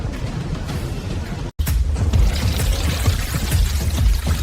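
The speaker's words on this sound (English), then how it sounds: "Pure water, precisely measured, awakens the dormant ingredients, beginning the magical alchemy that creates the perfect dough." Measured water gushes into dough ingredients in a bread factory, a loud, steady rushing pour that cuts out for a split second before continuing.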